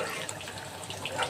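Water poured into a cooking pot of rice for a tomato rice dish, a steady, close splashing fill flowing continuously for a moment with no talk.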